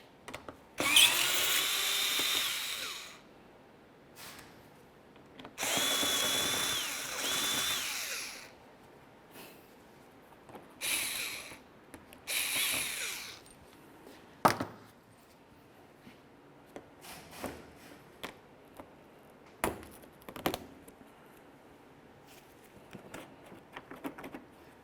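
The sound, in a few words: power drill removing 7mm bumper cover screws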